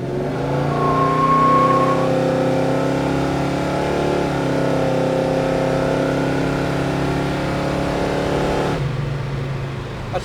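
A 1970 Chevrolet Chevelle SS V8 engine revs up and pulls hard, its pitch climbing steadily for several seconds up to about 75 before the throttle abruptly drops off near the end.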